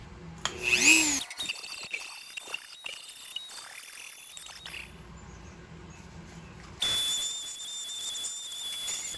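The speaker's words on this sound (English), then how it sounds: "A lot of sanding, a whole bunch of Dremel work here." Dremel rotary tool sanding a cast play shovel, a high-pitched whirring grind that starts loud, drops back to a softer steady buzz mid-clip, then surges again to a sustained whine near the end.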